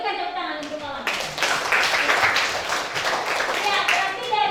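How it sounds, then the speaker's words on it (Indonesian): A class of pupils claps for a classmate, starting after a brief spoken moment and continuing as loud, busy clapping for several seconds, with children's voices mixed in. "Iya, berikan tepuk tangan untuk kawan."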